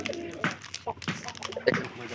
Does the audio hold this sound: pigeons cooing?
yes